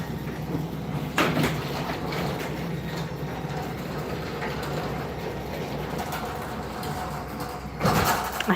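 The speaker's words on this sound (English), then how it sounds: "I had to put the garage door down" Garage door being pulled down, a continuous rattling, grinding mechanical rumble lasting several seconds, with a louder clunk near the start and another at the end as it closes.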